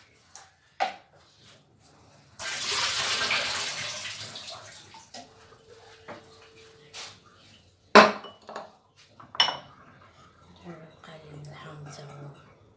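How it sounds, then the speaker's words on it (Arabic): Water poured over white olives being cured in a kitchen, a sustained splashing pour of a few seconds followed by clinks and small handling sounds, close and moderately loud with a little talk. "دابا المهم غادي نحيدو له هذا ونديرو له الماء اخر عاوتاني"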